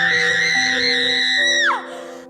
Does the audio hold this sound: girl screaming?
yes